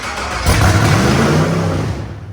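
An engine on a homemade build called CLIK-B8 catches and roars to life with a loud rev, then falters and dies away within about two seconds, with no talking.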